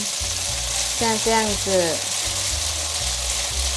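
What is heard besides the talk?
tofu strips frying in a pan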